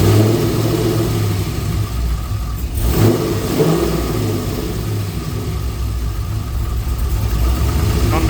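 Pontiac Trans Am WS6 with a big cam idling, a loud, close, lumpy rumble that holds steady with a small blip of revs near the middle.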